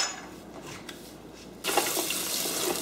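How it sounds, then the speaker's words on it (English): Tap water runs into a sink to wash asparagus, a soft trickle that swells into a fuller, louder rush of water partway through and keeps pouring steadily. "you just want to wash this asparagus off real good"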